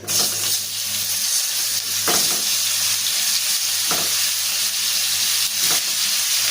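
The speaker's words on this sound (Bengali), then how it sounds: "এখন ভাজবো কপি," Cauliflower florets frying in hot oil in a pan give a steady, close, continuous sizzle with no voices over it.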